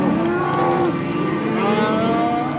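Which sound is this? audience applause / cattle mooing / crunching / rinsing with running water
cattle mooing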